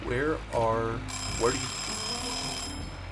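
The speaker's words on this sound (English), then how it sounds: "there's the alarm" Alarm rings in Farming Simulator 2013, a sustained high electronic tone that holds steadily for about a second and a half while someone talks over it.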